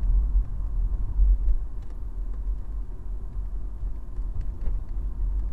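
A car drives along the road near Sozopol, a steady low engine and tyre rumble heard from inside or close by, continuous without talk.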